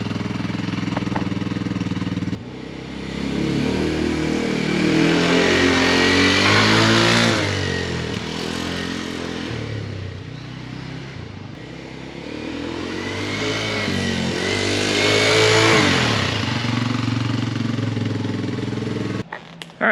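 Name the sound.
dirt bike riding in first gear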